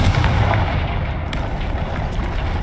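Confringo fire spell explosion in the video game Hogwarts Legacy, a loud booming blast with a rumbling, crackling tail that fades over a couple of seconds.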